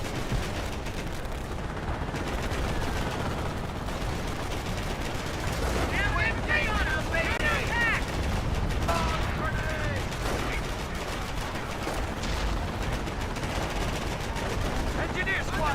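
Gunfire crackles through a chaotic D-Day beach landing, with bursts of shots and machine-gun fire over a dense roar of battle, while shouting voices come and go in the mix.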